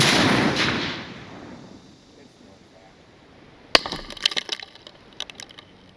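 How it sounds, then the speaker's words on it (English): A 37mm launcher fires during a torture test, giving one sharp, loud report after a quiet stretch, followed by scattered crackling. "Tac 5, 4, 3, 2, 1, firing!"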